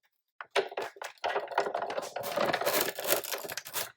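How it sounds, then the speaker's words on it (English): A die-cutting blade is pressed through cardstock sandwiched between cutting pads while a cupcake box is made, giving close, dense crackling and snapping that runs steadily for several seconds after a short silence. "the blade is hitting your cutting pads and going through the actual cardstock"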